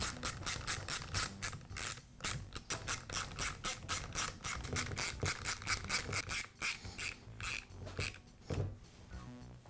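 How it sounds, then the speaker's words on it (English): Screws securing the shoe of a Milwaukee reciprocating saw are tightened, giving a close, steady run of rapid clicking and scraping strokes that continues without a break. "I'll tighten up the screws that secure the shoe"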